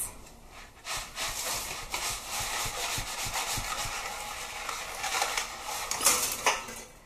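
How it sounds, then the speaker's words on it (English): Scraping and rubbing of a utensil against a pot while stirring fettuccine noodles in boiling water, with soft rhythmic knocks and a hissing wash of noise throughout. "Stir the fettuccine noodles so they don't stick together"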